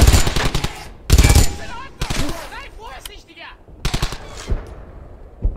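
Loud bursts of automatic gunfire from the World War II shooter Brothers in Arms: Hell's Highway come in short, close, rapid volleys separated by gaps. Shouted voices sound between the bursts.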